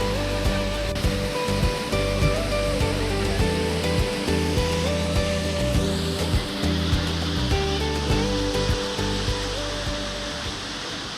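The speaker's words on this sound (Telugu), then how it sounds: "The mesmerising అతిరపల్లి falls." Rushing water at Athirapilly Falls produces a constant, dense roar beneath a prominent musical soundtrack of sustained tones and steady beats.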